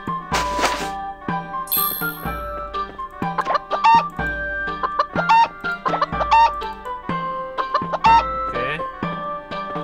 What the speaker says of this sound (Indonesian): Oh, ayam kita udah besar semua